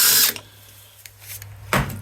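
An impact wrench working on the carburetor bolts of a Briggs and Stratton lawn mower, two short loud bursts up close with a quieter gap between them.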